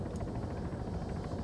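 A helicopter in the video game Arma 3 gives a steady low rotor thrum and turbine whine, continuous and fairly loud throughout with faint rhythmic chopping.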